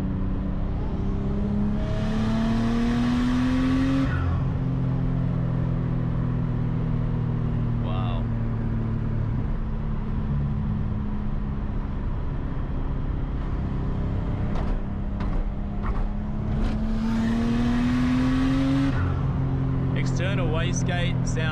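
A Nissan Skyline R33 GTST revs up hard, its engine note climbing and dropping across two long pulls with sharp wastegate chatter, loud and close, as people talk inside the car.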